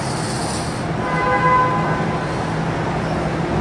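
A low, continuous rumble of a train rolling past during a severe thunderstorm in Mineola, with a brief horn-like tone rising midway and then fading back into the rumble.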